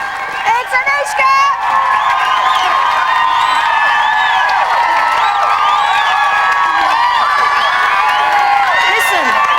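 A crowd outside a reality-show house during a live eviction night, cheering, whooping and shouting loudly and continuously, with whistles and children's shrieks rising over the roar and a voice talking now and then.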